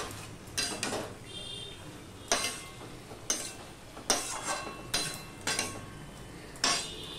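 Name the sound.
stirring the mixture in a pan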